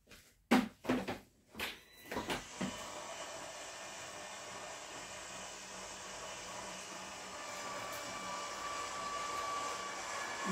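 A card-making machine feeds a paper sandwich through, giving a steady mechanical whirring hum that runs for several seconds after a few short knocks and clatters at the start, moderately quiet and without talk.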